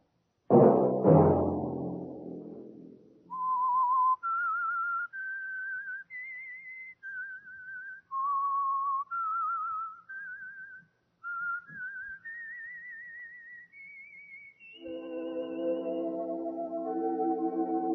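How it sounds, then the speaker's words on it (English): A solo whistled theme melody rises and falls through a series of sustained notes, following a brief burst of noise, then gives way to a swelling orchestral chord, from the radio drama The Whistler. "Let that whistle be your signal for the Signal Oil program"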